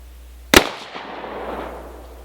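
A single sharp shot from a Miroku Kentucky black powder pistol loaded with 25 grains, a loud close crack followed by a long fading outdoor echo.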